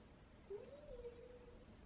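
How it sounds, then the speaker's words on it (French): A house cat named Mimi gives a single drawn-out, slightly rising meow at close range in a quiet room. "C'est génial les chats."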